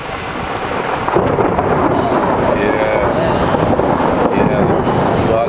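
Thunder from a lightning storm near the Hoover Dam bridge rolls as a loud, sustained low rumble with a steady wash of noise, building slightly after the first second and continuing unbroken.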